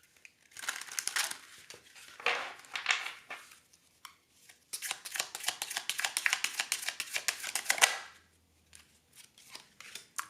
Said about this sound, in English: I'm going to shuffle them again, give that a chance to come out again